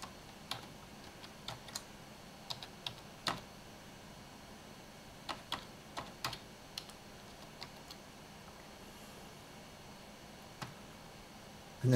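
Password being typed on a computer keyboard, sparse soft key clicks in irregular bursts over a quiet background, fairly close, with a short pause in the middle and no voices.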